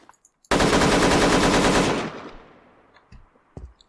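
Rapid burst of automatic fire from a newly added weapon in a first-person shooter game, loud and continuous for about a second and a half, then fading reverb and a couple of faint clicks.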